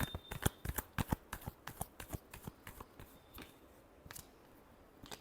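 Tarot cards are shuffled in a quick series of crisp riffling snaps and flutters, close and clear in a quiet room, slowing and softening toward the end.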